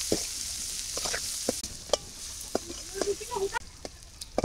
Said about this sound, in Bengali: এই কড়াইতেই আমি পেঁয়াজ কুচি দিয়ে দিলাম